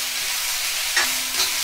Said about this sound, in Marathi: कढईत सुद्धा कांदे असे पसरवून पसरवून भाजू होया